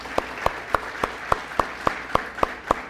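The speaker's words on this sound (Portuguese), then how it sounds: "Vamos aplaudir o Senhor pela vida do Gustavo?" A church congregation claps in unison, sharp evenly spaced beats roughly every quarter second over a low murmur of background noise, steady and rhythmic throughout.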